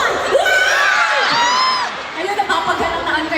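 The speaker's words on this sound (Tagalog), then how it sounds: "Iba yung sigaw nila eh, Lola Pascual!" A large concert crowd of fans at a London show cheers, whoops and screams loudly, with high excited voices layered together in a sustained roar that dips and rises again.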